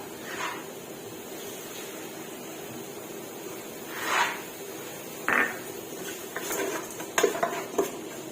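Chili curry paste being stirred in a cooking pot for an Isan-style snakehead fish curry, heard as scattered soft scrapes and clinks of a utensil against the pot over a steady low background hiss.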